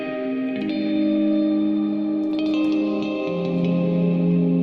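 Sampled guitar harmonics drenched in reverb and delay, sustained bell-like tones that overlap and shift pitch, ringing smoothly with a long echoing tail and no gaps.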